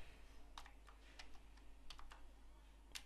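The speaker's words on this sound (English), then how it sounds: "It's going to type in game mode override." Typing on a computer keyboard while entering a game mode setting in a game server admin panel, with a few scattered keystroke bursts, quiet and close, over a steady low hum.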